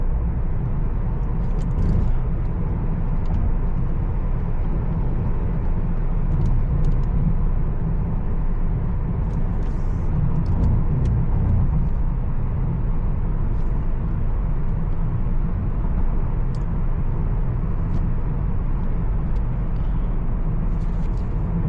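A 2025 Changan Eado driving along Prince Turki Street in Riyadh, heard from inside the cabin as a steady, continuous road and engine drone with tire rumble, no talking.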